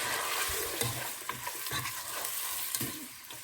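Freshly ground garlic and salt frying in a pan for a chicken qorma, a loud, close, continuous sizzle with crackling bursts and stirring scrapes, no talking.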